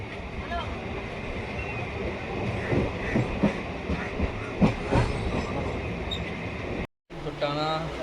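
From inside a moving passenger carriage, wheels clatter over rail joints in a clickety-clack rhythm beneath a steady rumble, while voices talk over it and a short dropout breaks the sound near the end.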